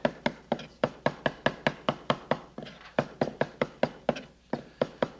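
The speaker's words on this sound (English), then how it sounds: "See how this knife works, just chopping back and forth." Rapid, regular chopping thuds of a blade striking inside a wooden bowl, about four per second, crisp and close, with brief pauses.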